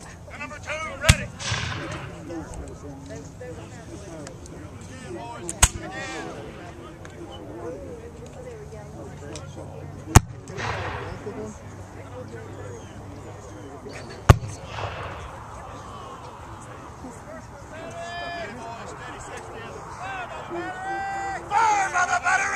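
Civil War re-enactment artillery at the Battle of Cloyd's Mountain in Dublin, Virginia, with cannons booming as sharp, widely spaced blasts about every four seconds, heard over crowd murmur and shouted commands.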